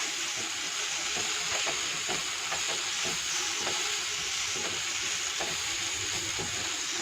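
Carrots and beans sauté in a little oil for veg noodles, a steady close sizzle with scattered stirring clicks and scrapes running throughout, no talking.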